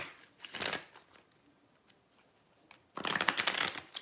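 Tarot cards are shuffled in two riffling bursts, a short one followed by a longer, louder flutter of cards, close to the listener with quiet between them.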